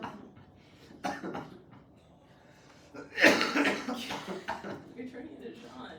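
A person coughing in a classroom during a math lesson, a short burst of harsh coughs around the middle, fairly faint and roomy, with quieter throat sounds and murmuring voices around it.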